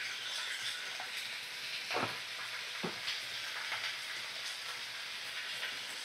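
Mixed winter vegetables with turmeric fry in a pan, producing a soft, even sizzle with a couple of short stirring scrapes partway through, heard alone without talk.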